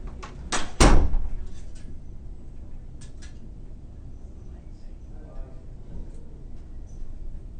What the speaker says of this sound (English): I'm gonna shut this door, okay?